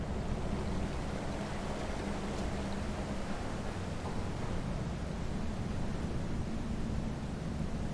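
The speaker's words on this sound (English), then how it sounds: "There's water coming in here." Water flowing in inside The Witness, a steady rushing wash of noise that holds at an even level throughout, with no voices.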